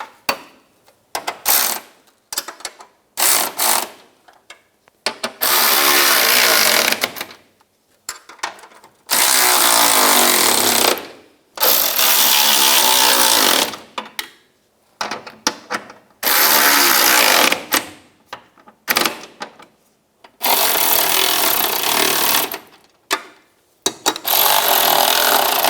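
A ratchet or power tool tightens running board bolts on a 2007-2013 Chevrolet Silverado 1500, in several loud, close bursts of whirring and clicking separated by short pauses, with no talking.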